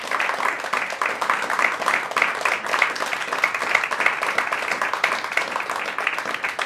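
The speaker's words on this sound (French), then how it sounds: "je crois qu'on peut les applaudir" Audience applause at a live stage show, a dense continuous patter of many hands clapping fairly close and loud throughout, with no talk over it.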